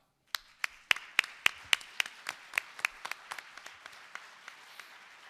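An audience at a morning citizenship-help event claps together in a quick, regular rhythm, sharp at first and then fading into softer scattered claps as the applause dies down.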